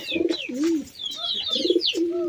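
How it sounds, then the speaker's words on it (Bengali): Domestic pigeons coo close by in two soft, rolling bursts, mixed with light chirps and faint background noise. "আমি কিন্তু আপনাদেরকে আমার কবুতরগুলো দেখাচ্ছি"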